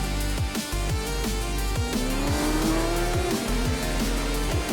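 In a Formula 1 racing game at Silverstone, an F1 car brakes hard and then accelerates, its engine whining through rapid gear shifts over a tire squeal, close and loud.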